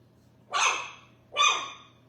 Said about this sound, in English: It cracks me up when those little things bark.